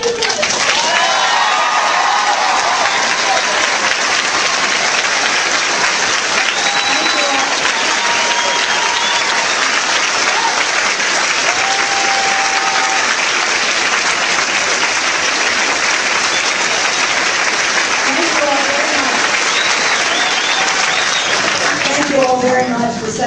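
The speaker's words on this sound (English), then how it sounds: "Let's give a big round of applause" Sustained applause from a large audience welcoming Speaker Nancy Pelosi at ASU, dense and steady for over twenty seconds, with scattered cheers and voices in the crowd.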